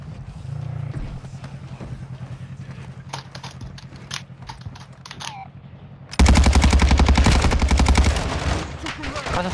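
Rapid automatic gunfire in the shooter game DMZ, sporadic shots at first, then a loud sustained burst of fast, dense rattling from about six seconds on, with occasional voices.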